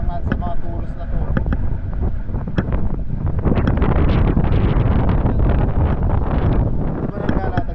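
Gusty wind blows outdoors beside the water at a fishing spot among wooden stakes, buffeting the microphone in loud rumbling surges while a person talks over it.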